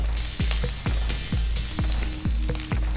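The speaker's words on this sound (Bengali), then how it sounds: "ভালো করে নাড়িয়ে চাড়িয়ে দিচ্ছি" Rice tossed in ghee in a frying pan sizzles steadily, while a spatula makes regular scraping strokes roughly twice a second, close and loud.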